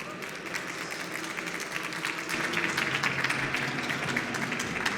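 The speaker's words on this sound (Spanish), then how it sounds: "Por favor, un fuerte aplauso." An audience applauds continuously, a dense wash of many hands clapping that swells louder halfway through and keeps going to the end.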